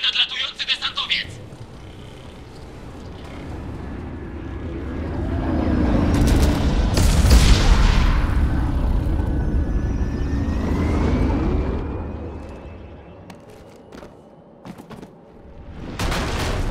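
An incoming dropship in Mass Effect 2 Legendary Edition swells in as a loud engine roar that rises and then fades, with gunfire bursts and a shouted voice at the start.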